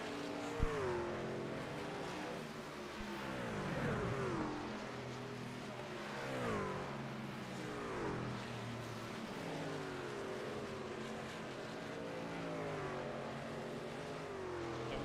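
Race cars roar around an oval track, engines rising and falling in repeated sweeping passes as the field laps, a steady layered drone of several cars at mid distance with no talk over it.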